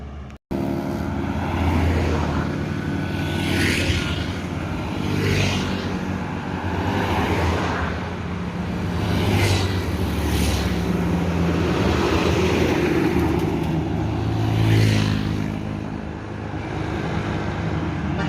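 Motorcycles race around a track, their engines rising and falling as a series of loud passing whooshes and revs one after another, steady mid-level roar underneath and no talk.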